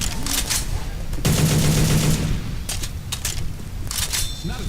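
Rapid bursts of M4 rifle fire in the Left 4 Dead 2 shooter game, loud sharp cracks in short volleys, close up, with quieter gaps between.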